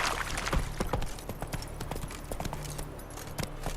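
Roach the horse galloping in The Witcher 3, rapid hoofbeats clip-clopping in a driving rhythm, close and loud over a low game ambience.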